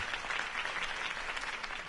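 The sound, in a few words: applause after a campaign speech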